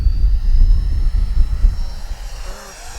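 An Arrows RC Marlin (Avanti) model jet takes off from a runway, its loud, close engine roar rumbling steadily and fading slightly as it moves away.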